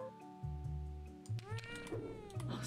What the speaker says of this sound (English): Did you know that Sebi can meow in 10 different cat languages?